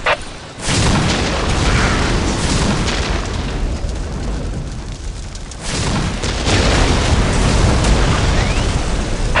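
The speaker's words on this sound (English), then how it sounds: "Whirlwind artillery tank here. They will never see it coming." Heavy artillery barrage from a Whirlwind tank in the Warhammer 40k Dawn of War game, loud continuous booming blasts that roll together into a dense roar, with a brief lull before a renewed volley.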